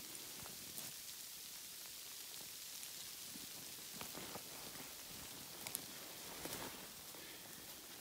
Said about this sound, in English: That's what um, hail and sleet and what have you looks like